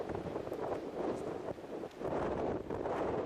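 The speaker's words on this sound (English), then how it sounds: "It seems to be maybe a right to left wind" Wind buffets a microphone on a disc golf course at a tournament in Wyoming, a loud, low rumbling roar that swells and dips in gusts with no voices.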